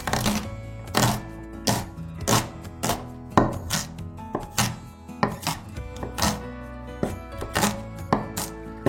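Shallots are roughly chopped on a board for beef rendang, the knife landing in a series of sharp, distinct thuds at an uneven rhythm, close and loud with no voices.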